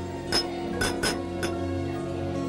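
Four bright glass clinks in a drinking toast from a classic Yeşilçam Turkish film scene, two close together in the middle, ringing over steady background music with no talk.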